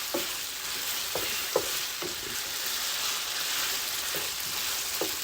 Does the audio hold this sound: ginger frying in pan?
yes